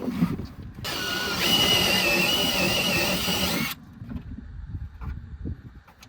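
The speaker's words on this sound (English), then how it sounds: "we're going to drill the holes out until they can fit one of our riv nuts snugly" A power drill with a step bit whines loudly for about three seconds, boring out holes in metal on a Ford F-150 for rivet nuts, with quieter clattering and handling noises before and after.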